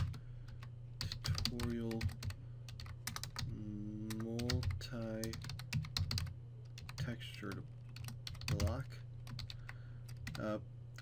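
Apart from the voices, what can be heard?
loud computer keyboard typing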